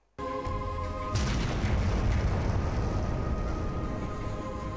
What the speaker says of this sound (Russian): увидеть, как взрывают породу в карьерах